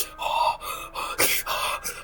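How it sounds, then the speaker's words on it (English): A woman in a yandere visual novel breathes in strained, ragged gasps, a quick run of sharp close inhales and exhales in an uneven rhythm, with no speech. "She tries to control her breathing"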